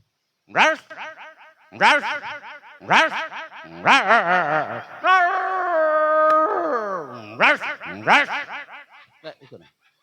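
A human voice mimics a stray dog, giving a series of sharp yelping barks that stretch into a drawn-out wavering howl, then a few more yelps.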